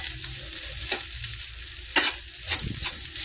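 Garlic fried rice sizzling steadily in a pan while a spatula stirs and scrapes it in several distinct strokes, close and continuous, with no speech.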